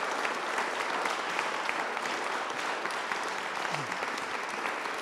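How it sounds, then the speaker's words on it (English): Audience at a Shakespeare performance event applauding, a dense, steady round of clapping that holds evenly throughout. "I will just ask you one for one more round of applause to Simon"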